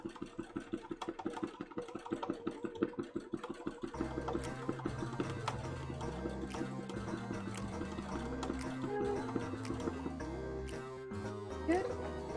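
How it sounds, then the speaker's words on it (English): Sewing machine stitching an embroidery panel for a cosplay costume, a rapid close rhythmic clatter at first, then a steady mechanical whirr with shifting motor pitch as the corner is sewn. "Sew a little bit in again. And then make sure I get that corner all sewn up."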